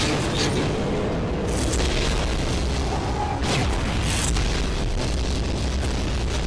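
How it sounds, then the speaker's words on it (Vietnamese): Monsters exploding in a Skibidi Toilet video game battle between toilet vehicles and cameramen, a dense wash of booms and bursts running continuously over the whole stretch at steady loudness. "rất là nhiều quái vật đang đi tới đó, bị nổ tung đó"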